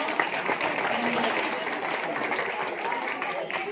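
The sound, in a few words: applause for the play's organiser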